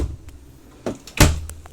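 A drawer in a 2020 Cornerstone 45B motorhome bedroom sliding shut with a soft thump, followed by a sharper knock as it closes; brief and fairly close in a quiet room.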